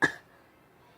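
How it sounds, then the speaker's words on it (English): A single short cough from an animated piglet character bursts out close and loud, then trails off into near silence. "I got a cough."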